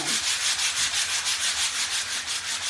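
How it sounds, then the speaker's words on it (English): Steady back-and-forth sanding of wood with a block, a rhythmic scratchy rasp repeating about four times a second, close and loud. "we're going to grab our sanding block. And we're going to sand this whole thing down."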